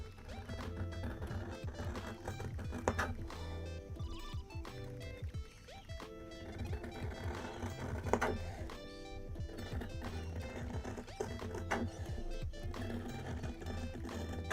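Fabric for a dice bag being sewn: a steady rhythmic clatter of stitching, running almost continuously with brief pauses, under soft background music.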